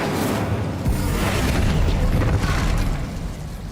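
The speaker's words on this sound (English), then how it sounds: "Incendio!" An Incendio fire spell cast in the video game Hogwarts Legacy, a loud roaring burst of flame that swells in quickly and rumbles on for a few seconds before easing off.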